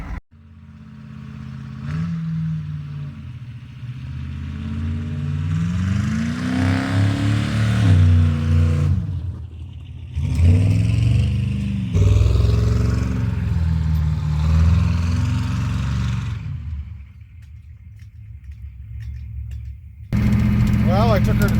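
A 1950 Willys dually truck with an IDI diesel engine drives on fresh snowy roads, its engine droning and rising through gears with rattling clatter, recorded from inside the cab; a voice is briefly heard talking over it.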